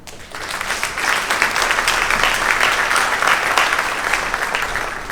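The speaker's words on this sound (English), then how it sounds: "You should give yourself a big round of applause." Graduates at the 2019 Seton graduation ceremony applaud themselves: a loud, sustained wash of many hands clapping that swells quickly and holds steady for about five seconds.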